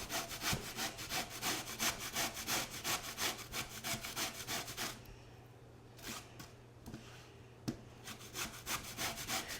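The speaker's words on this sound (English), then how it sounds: "So if you use the finer side of your grater, it should look something like this" Sweet potatoes are shredded on the finer side of a box grater in a kitchen, making rapid, rhythmic rasping strokes close by, pausing for a few seconds before resuming.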